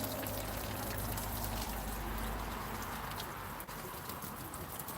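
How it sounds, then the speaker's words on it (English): Water pours steadily over a small child's bare feet outdoors in hot weather, a close, continuous splashing rush with a brief dip near the end. "When it's this hot out, we definitely want to play with a little bit of water."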